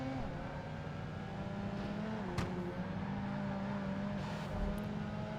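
A Mazda RX-7 race car engine hums steadily in Project Gotham Racing 2 on a Barcelona circuit, a fairly quiet, even drone with slight pitch shifts through corners and a brief click midway.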